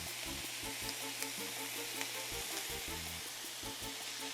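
Ground beef fries in a pan for a tamale pie, a soft, steady sizzle with faint crackles and low clanking of stirring, quiet and close.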